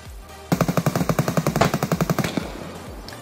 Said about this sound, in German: ich höre drinnen noch die Schüsse